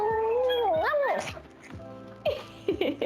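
A cat's meow plays back from a Soundwave tattoo as a wavering, drawn-out cry, followed by quieter chatter and short vocal sounds in a room.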